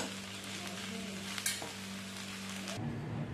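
Finely chopped cauliflower, capsicum and beans fry in oil for Schezwan fried rice, a soft continuous sizzle with a low hum beneath and a single brief stirring knock before it cuts off.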